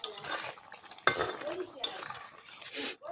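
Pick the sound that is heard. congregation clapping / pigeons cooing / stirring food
stirring food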